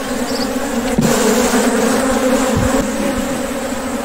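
Honeybees buzzing around an opened beehive during an inspection. A dense, continuous drone surrounds the listener, loud and close, with a few nearer passes standing out.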